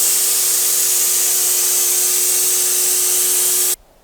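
Steady, loud spray gun hiss laying the first coat of paint on a 50-year-old boat, continuous for nearly four seconds before cutting off abruptly into quiet.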